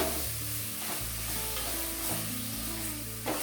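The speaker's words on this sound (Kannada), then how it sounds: "ಈಗ ಚೆನ್ನಾಗಿ ಎಣ್ಣೆಯಲ್ಲಿ ಒಂದು ಸ್ವಲ್ಪ ಬೀಟ್ರೂಟು ಚೆನ್ನಾಗಿ ಮಿಕ್ಸ್ ಆಗೋಂಗೆ ಕಲಿಸ್ಕೊಳ್ಳಿ" Beetroot being stir-fried in oil in a pan, with a steady sizzle and repeated scraping stirs of a spoon against the pan, close up and continuous, with no talking.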